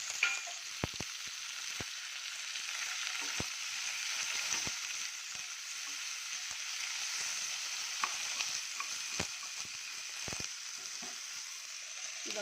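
Fresh green peas and sweet corn frying in a pan with ginger-garlic paste, a dense continuous sizzle close by with scattered clicks and taps of a spoon against the pan, steady throughout with no voices.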